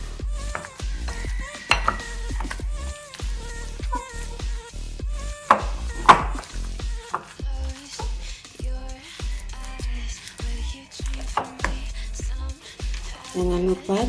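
Grated taro, onion and an egg get mashed and mixed together by hand in a bowl, giving soft squishing and wet slapping with occasional clinks of the dish, while someone talks over it throughout.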